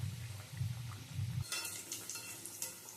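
Snacks drop into hot oil in a pan on a gas stove and sizzle with soft bubbling and crackling, faint and close, with no talking.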